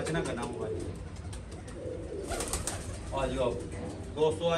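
Soft pigeon cooing mixed with people talking nearby, a low murmuring coo under the voices.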